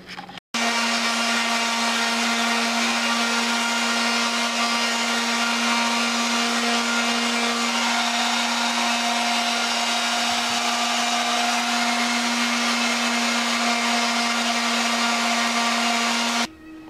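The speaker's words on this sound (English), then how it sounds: "Got a rotary sander with some 400, cleaned that up." Rotary sander with 400 grit paper sanding paint off a part during an FZR restoration, a loud, steady whirring motor drone with a humming tone, running continuously close up before stopping.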